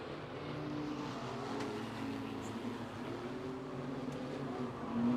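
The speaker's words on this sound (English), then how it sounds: "We're racing on the green light straight into the corner." Speedway race cars roar together into a corner, a dense, continuous engine drone with shifting tones, heard from a distance and swelling slightly at the end.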